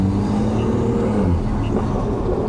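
A catless BMW 440i with a Stage 2 MHD tune idles on a cold morning warm-up, a steady low engine drone filling the short stretch at close range with no talk.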